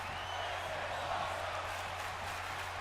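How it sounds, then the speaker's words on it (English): A wrestling crowd roars in the video game WWE 2K19, a broad continuous wash of cheering and noise at steady moderate level, heard from a distance as arena ambience beneath the match. "Crowd getting into this match."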